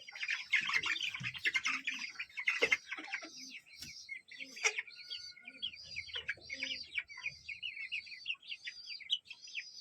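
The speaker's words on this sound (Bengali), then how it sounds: "আমি একটা কয়লার মোরগ ধরবো" Kuroiler chickens on a poultry farm squawk and cluck in a busy, overlapping chorus, with sharp close calls mixed with fainter chatter from the flock while a rooster is being caught.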